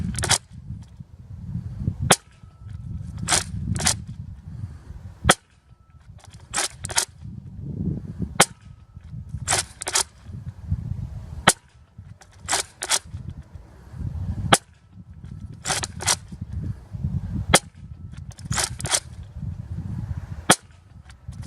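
A Nerf Rival Apollo XV-700 blaster fires yellow foam balls, giving sharp, loud single pops, about ten of them, some spaced singly and others in quick pairs or triplets, over a low rumbling background with no talk.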